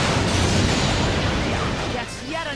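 Dense, booming blasts of cannon fire fill a battle scene in Dynasty Warriors 7: Xtreme Legends, loud and continuous, with a voice briefly audible as the barrage thins at the end.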